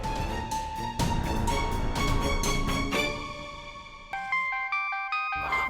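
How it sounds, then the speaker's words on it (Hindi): A mobile phone ringtone plays a bright electronic melody in repeating phrases, loud and close, with no talking. "आवाज तुम्हारे फोन की है ना"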